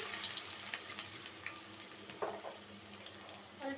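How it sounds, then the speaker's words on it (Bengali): Chopped onions fry in hot oil in a wok on a low gas flame, a steady close sizzle with a few soft scrapes and clinks of stirring, no voices. "তেলটাও গরম হয়ে গেছে দিয়ে দিলাম পেঁয়াজ কুচি"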